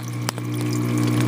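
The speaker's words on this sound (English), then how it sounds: "and then water flows out of it" Water flows steadily out of an aquarium protein skimmer onto a bag of carbon, a continuous close trickle layered over a humming pump drone.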